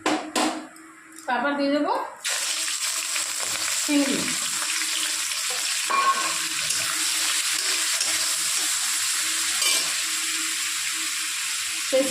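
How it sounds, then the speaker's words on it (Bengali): Nigella seeds drop into hot oil in a pan and sizzle in a steady close crackle, with brief clatters and a voice speaking near the start before the frying carries on alone. "তেল দিয়ে নিলাম দিয়ে দেবো একটু সামান্য কালো জিরে"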